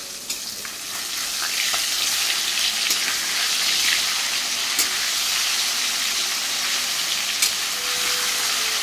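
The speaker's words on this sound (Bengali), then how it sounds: "একটা ডিমওয়ালা মাছ দিয়েছি ভাজতে মেয়ের জন্য" A roe-filled fish fries in hot oil with a steady, loud hissing sizzle and occasional small pops and crackles, with no voices.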